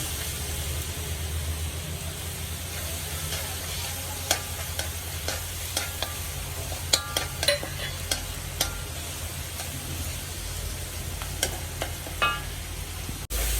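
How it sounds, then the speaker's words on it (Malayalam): Ginger garlic paste fries with sautéed onions in a pan under a constant loud sizzle, with repeated sharp clicks and scrapes of a spoon stirring through the middle stretch. "ഇനി ഇഞ്ചി വെളുത്തുള്ളി പേസ്റ്റ് ചേർത്ത് കൊടുക്കാം."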